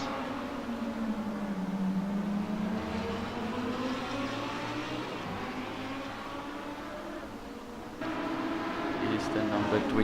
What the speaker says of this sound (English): There goes Brad through on Chris Heinuku